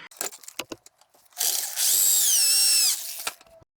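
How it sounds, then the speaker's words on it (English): A power drill bores a hole through the middle of a small steel piece, a loud whining burst lasting about a second with a rising-falling pitch, framed by brief clicks and handling knocks. "Drill a hole through the middle."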